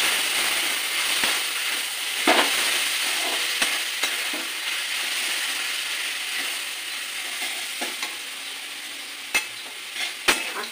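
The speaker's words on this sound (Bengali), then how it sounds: "একটু নেড়ে চেড়ে দেবো।" Shrimp stir-frying in a pan for restaurant-style mixed chow mein, a steady loud sizzle with clanking spatula strikes against the metal at irregular intervals, close and continuous with no voices.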